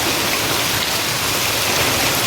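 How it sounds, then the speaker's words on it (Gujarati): Heavy rain pours down steadily in a village, a dense, continuous hiss of drops hitting surfaces close by, loud and unbroken with no voices over it. "આવો કઈ વરસાદ વર્યો છે આજનો અમારે."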